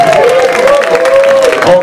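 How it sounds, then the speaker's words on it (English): Applause for a comedian rings out steadily from a comedy club audience, a dense wash of clapping with a loud, sustained voice-like tone riding over it for the whole stretch. "Give him a round of applause"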